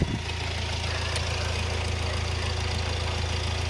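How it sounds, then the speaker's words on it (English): A car engine idles steadily just after startup, a continuous close, loud rumble with an even low pulsing throb and no speech over it. "warning, and you start the engine"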